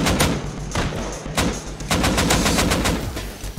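AK rifle fire in the survival game Rust comes as rapid automatic bursts separated by short pauses, loud and fairly close, each burst a dense chain of sharp cracks.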